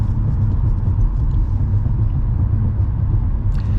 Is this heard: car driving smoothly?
yes